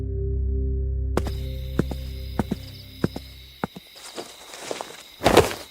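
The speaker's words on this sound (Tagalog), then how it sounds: "Nakarinig ako ng ibang tunog na mga yabag sa sahig." Footsteps land on a floor as sharp, evenly spaced thuds over a low steady hum, followed by a burst of louder shuffling and movement close by, with no talking.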